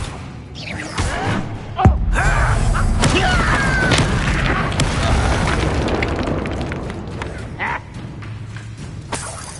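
A Bombarda explosion spell erupts in the Hogwarts Legacy video game, a heavy booming blast followed by a sustained rumbling roar and debris crashes, with a few sharp impacts along the way.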